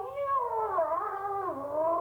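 A voice imitates a kitten being sucked into a vacuum cleaner: a continuous, strained, wavering yowl with rising and falling pitch, held loud and close for about two seconds with no break.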